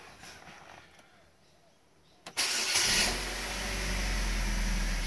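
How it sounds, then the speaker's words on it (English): A 2015 Holden Captiva 2.4L petrol engine with a P0010 VVT solenoid fault cranks briefly after a quiet stretch, catches with a sharp burst, then settles into a steady, close, low idle. "when we turn the engine on."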